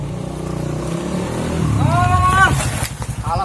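Motorcycle engine revving on a comedy film set, rising and falling over a few seconds beneath people talking nearby.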